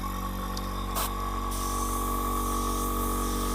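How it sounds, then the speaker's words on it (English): A small airbrush compressor runs steadily and fairly close, a constant droning hum with a brief hiss of air near the start, with no talking over it. "Excuse the noise of baby compressor."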